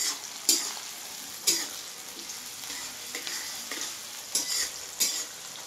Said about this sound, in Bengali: এইসব পেঁয়াজটাকে এবার আমি লাল লাল করে ভাজবো।